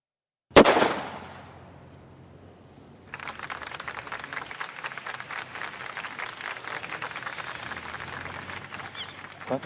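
A single sharp gunshot rings out during shooting training, its report decaying over about two seconds, followed by a steady dense crackle of rapid distant shots or applause-like noise for the remaining seconds.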